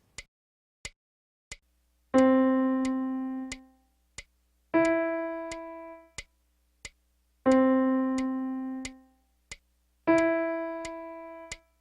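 A piano alternates groups of short ticking clicks with held notes lasting two beats each, leaving gaps where half rests fall, close and clear with nothing else heard.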